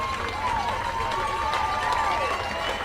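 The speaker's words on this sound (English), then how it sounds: "this crowd at Coates Stadium is loving it" A baseball crowd at Coates Stadium in Barrie cheers and roars after a run-scoring double, a dense sustained wash of voices and whistles with an announcer talking over it.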